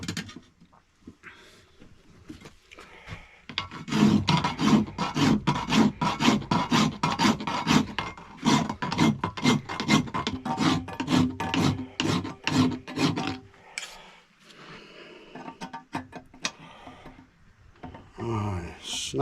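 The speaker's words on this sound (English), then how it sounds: "So a bit more filing." A hand file rasps metal for motorcycle crash bars in a quick run of strokes, each scrape distinct and close, then slows to a few scattered strokes and handling noises.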